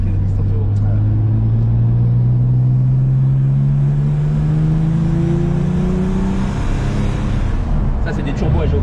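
A BMW engine with variable-geometry turbos revs up in one long, smooth climb, its loud droning pitch rising steadily before easing off, while people talk over it.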